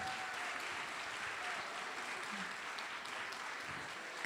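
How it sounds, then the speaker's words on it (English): Live audience at a brand forum conference applauding and cheering to welcome a presenter on stage, a steady dense wash of clapping lasting throughout, loud and continuous with no talking over it. "give some noise for Mr. Eggy."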